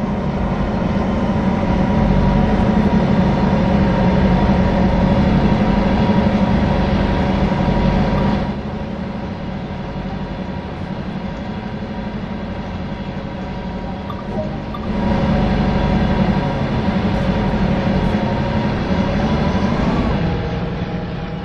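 A train running on the Oakville subdivision in Train Sim World 2 gives a loud, continuous rumble and hum, with the level dropping for a stretch midway and rising again, as from a camera view change.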